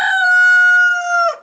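A Rhode Island Red chicken gives one loud, close, sustained crow about a second long, held at a steady pitch with a short drop at the end and no talking.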